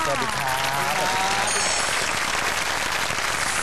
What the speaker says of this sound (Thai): ขอเสียงปรบมือต้อนรับคุณหมอสุขมน วิภาวีพลกุล